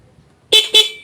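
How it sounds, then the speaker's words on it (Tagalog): Two short, loud car horn honks in quick succession, the kind given just before overtaking another vehicle, ringing out over quiet road ambience. "sa likod pa lang niya, magbubusina ka na agad ng dalawa"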